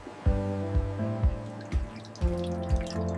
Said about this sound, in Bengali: ভার্জিন অয়েল তৈরির জন্য কোল্ড প্রেস পদ্ধতিতে তেল নিষ্কাশন করা হচ্ছে।